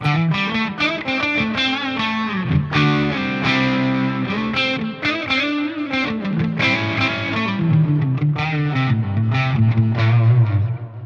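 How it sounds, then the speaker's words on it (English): Electric guitar played through a Minotaur overdrive effect on a clean tone in a Line 6 Helix, loud driven chords and picked notes ringing continuously with no talking. "I might want to drop in a little bit of Minotaur, a little bit of drive"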